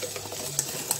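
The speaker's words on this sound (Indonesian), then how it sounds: "Ini saya aduk kembali sampai tercampur terlebih dahulu ya." A pandan pukis batter of flour and coconut milk is stirred by hand without a mixer, giving a soft, wet, continuous swishing with a couple of faint taps, close and alone.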